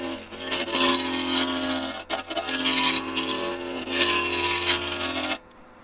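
A wood turning tool with a fresh grind cuts into spinning wood on a lathe, giving a loud, continuous scraping rasp with a steady hum underneath and a brief dip before it ends abruptly.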